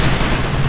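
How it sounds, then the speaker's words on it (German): A cannon blast in the real-time strategy game Ground Control 2 fills the moment with a dense, loud, broadband roar that holds steady without a break and stands alone, with no voices over it. "Okay, die Kanone scheint ganz gut zu sein."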